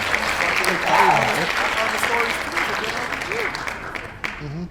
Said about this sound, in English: So round of applause for Monster Hunter.